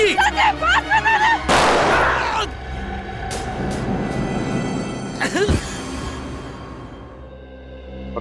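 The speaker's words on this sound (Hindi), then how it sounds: "मैं गोली चला दूंगी।" A single handgun shot in a tense crime-drama confrontation: a sharp, loud blast followed by a short broadband roar, then a second crisp crack a few seconds later over a low, lingering background rumble.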